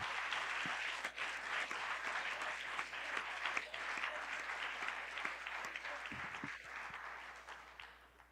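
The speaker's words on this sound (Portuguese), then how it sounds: "Você pode aplaudir a Jesus?" A church congregation applauds, a sustained, fairly faint wash of clapping from a large room that holds steady for several seconds, with a few sharper claps poking out, then tapers off toward the end.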